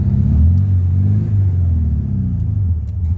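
Car pulling away from a green light, a loud, steady low engine rumble close by as it accelerates, with the pitch shifting slightly as gears change.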